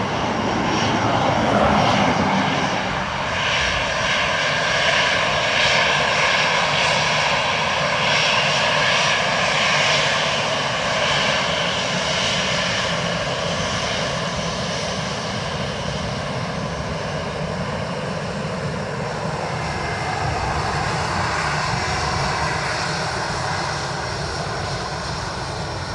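Airliner landing on runway 28 left at Dublin Airport, a loud sustained engine roar that swells early and then holds as a steady broad rumble with a faint whine, no talk over it.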